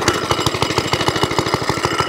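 A vintage Suffolk Corporation Mk2 lawnmower engine runs steadily after a choked start, its small motor thudding in a fast, even, loud pulse close by with no talking.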